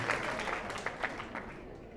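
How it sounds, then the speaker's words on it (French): Crowd at a fashion show competition applauds a contestant, a brief, faint, continuous patter of many hands heard from afar. "Merci, on applaudit bien fort."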